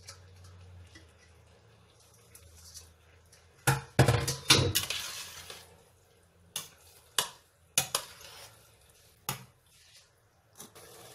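Cooked rice being mixed for Pakistani zarda sweet rice, giving a handful of sharp clinking, scraping spoon-on-pot knocks in irregular bursts over a quiet kitchen background.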